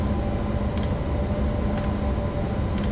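Train in a tunnel with wheels slipping and losing traction in Train Sim World 2: a heavy, constant rumble with a thin sustained whine on top and a few faint periodic clicks.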